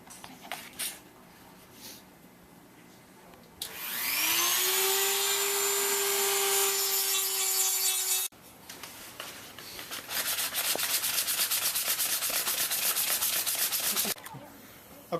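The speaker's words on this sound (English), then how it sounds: "I'll take some 150 grit sandpaper and smooth the whole thing down before I start painting it." A wooden hatchet prop is smoothed with 150 grit sandpaper. A motor whine comes first, then a steady, close, scratchy rasp of sanding runs for several seconds before stopping.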